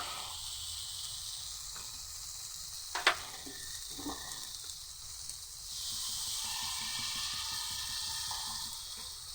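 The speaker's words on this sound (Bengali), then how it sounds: "এবার ওর মধ্যে পরিমাণ মতো জল দিয়ে দেবো" Water poured onto spice paste frying in a pan sets off a sharp hiss and a burst of sizzling, followed by a steady, softer bubbling sizzle that swells again near the end, close and without talk.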